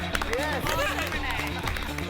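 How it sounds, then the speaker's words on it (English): A gantry audience cheers and claps in the MasterChef Australia kitchen during a Chicken Tikka Masala pressure test: a dense, continuous wash of whoops and applause with raised voices throughout. "The gantry starts cheering."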